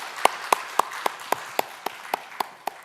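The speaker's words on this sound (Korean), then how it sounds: "하나님께 영광의 박수 올려드리겠습니다." A church congregation claps in a steady rhythm of about four crisp, evenly spaced claps per second during Sunday worship, with no talk over it.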